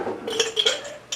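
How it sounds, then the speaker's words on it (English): Ice cubes clink into a drinking glass in a kitchen while making Southern sweet tea, a few quick bright knocks spaced across about a second, close and fairly clear with no talking. "I grab a glass and throw a little bit of ice in there"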